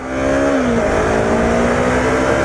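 A 45-horsepower engine revs hard and steadily, holding a loud, continuous droning tone with a pitch that dips briefly before settling, and no voices over it.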